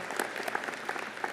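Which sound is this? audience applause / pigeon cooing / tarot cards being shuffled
audience applause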